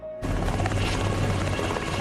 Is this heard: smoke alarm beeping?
no